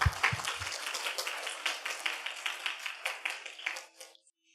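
A church congregation at a seminar claps together in a quick, even rhythm of sharp hand claps, moderately near, before the clapping fades out at the end.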